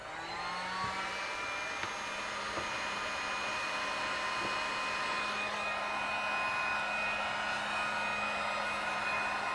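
A heat gun blows steadily over collage paper, a loud, even, close whirring rush of air with a faint steady hum that holds unchanged throughout, with a few tiny ticks and no speech.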